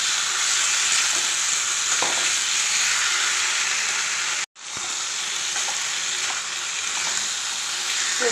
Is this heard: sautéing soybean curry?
yes